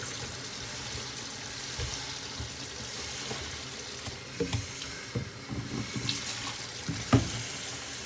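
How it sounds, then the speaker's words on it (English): Kitchen tap running into a sink while dishes are washed with soap, a steady broadband wash of water with occasional clinks and splashes standing out, moderately close and with no talking. "washing dishes suck, but I gotta do it"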